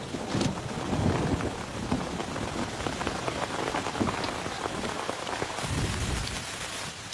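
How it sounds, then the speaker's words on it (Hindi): Steady rain pours down on a surface outdoors near a roadside tea stall, a dense continuous hiss with scattered drips, and a faint distant rumble like thunder toward the end. "यहाँ पर बारिश हो रही है"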